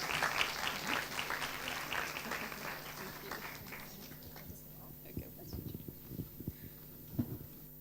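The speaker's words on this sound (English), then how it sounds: "Round of applause again." An audience at a World Intellectual Property Day celebration gives a round of applause, dense clapping at first that thins into scattered claps, with murmured voices underneath.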